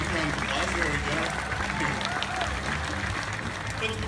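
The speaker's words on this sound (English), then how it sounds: "we can give Aasha one more round of applause" Audience applause at Odin's Temple of the Tiger show at Six Flags Discovery Kingdom, a moderately quiet, continuous patter of many hands under a steady low rumble of crowd and a background voice.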